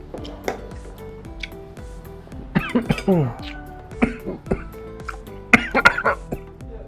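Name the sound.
coughing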